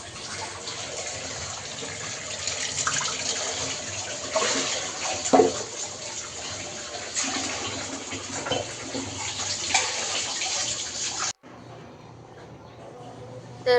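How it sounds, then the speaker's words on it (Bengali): Running tap water splashes steadily over dishes being washed after breakfast in a home kitchen, a continuous close gush with small clinks, then the flow cuts off abruptly and a quieter tail follows. "নাস্তা খাওয়ার পর এখন এগুলো আমি ধুয়ে নিচ্ছি"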